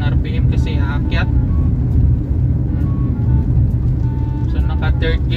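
A manual transmission car climbs uphill as the clutch is eased out with light throttle, its engine rumbling low and steady under continuous talking.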